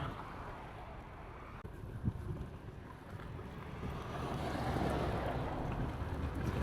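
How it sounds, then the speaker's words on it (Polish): Strong wind buffets the microphone while riding a Kukirin electric scooter outdoors, a continuous roaring rush that swells louder toward the end, with no voices. "Strasznie dzisiaj wieje."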